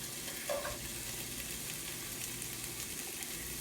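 Red onion frying in a pan for borscht, a steady low sizzle running evenly throughout with a faint brief clink near the start and no talking.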